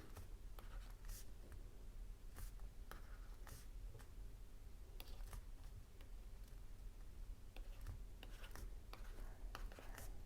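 A pen writes out a 5x5 number grid in quick strokes, a faint scratching and tapping in uneven bursts over a steady low background hum.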